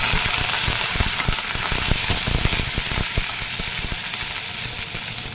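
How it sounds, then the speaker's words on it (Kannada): Curry leaves dropped into hot oil with mustard seeds and cumin sizzle loudly and steadily, a continuous frying hiss dotted with many small crackling pops throughout. "ಇದಕ್ಕೆ ನಾನು ಸ್ವಲ್ಪ ಕರಿಬೇವು ಹಾಕ್ತಾಯಿದ್ದೀನಿ."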